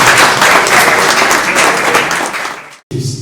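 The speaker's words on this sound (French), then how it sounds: "On peut l'applaudir." Loud, dense audience applause fills a conference hall in Brussels, held steady for nearly three seconds before cutting off abruptly, with a brief burst returning right after.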